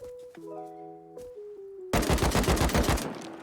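Gunfire in the survival game Rust: a few soft tonal notes give way to a loud burst of rapid automatic shots, a fast, even rattle of sharp cracks.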